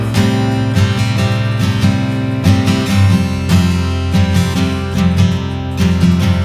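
Acoustic guitar strumming a song's chord transition, with open strings ringing under fretted chords; steady, close and full, played alone without talk.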